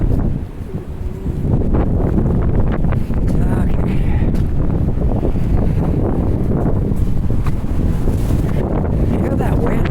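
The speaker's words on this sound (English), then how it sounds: "Man, that wind is loud up here." A strong wind blows hard through Halifax's North End on a very windy day, roaring and buffeting the microphone almost without pause, while someone speaks briefly.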